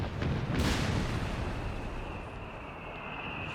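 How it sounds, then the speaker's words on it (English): An artillery barrage lands in a Company of Heroes 3 battle, a dense rumbling blast that swells early and then settles into a sustained low roar of distant explosions. "Artillery barrage coming in somewhere."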